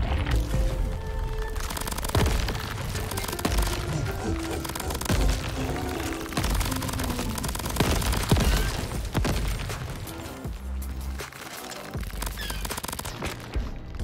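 Rapid gunfire from the video game Crab Champions, with fast, dense bursts of shots, crashes and impacts layered over loud game music that runs without a break.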